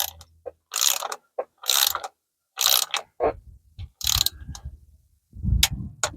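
A ratchet clicks in short bursts while tightening rocker cover bolts on a BMW N13 engine, close and distinct, with gaps of silence between the ratcheting strokes and a few softer metallic knocks.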